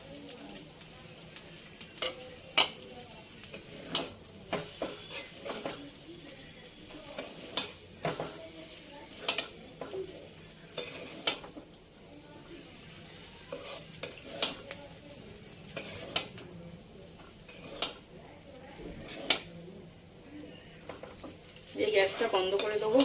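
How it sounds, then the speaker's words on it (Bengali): Chinese noodles tossed with chopped coriander in a pan, a spatula scraping and clinking against the metal in irregular bursts over a steady low sizzle of frying, close and fairly loud with no talking. "সব শেষে দিয়ে দেবো ধনেপাতা কুচি, দিয়ে ভালো করে নেড়ে চেড়ে নেবো"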